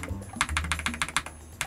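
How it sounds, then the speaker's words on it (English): Keys on an LK67 mechanical keyboard kit with its stock steel plate clack in a quick, close run of about a dozen crisp strokes, loud and alone. "those keys striking against the steel plate"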